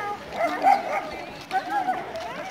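A dog near a river swimming hole gives short yips and whimpering barks in a couple of bursts over several seconds, close by and mixed with people talking.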